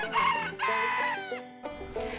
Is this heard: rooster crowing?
yes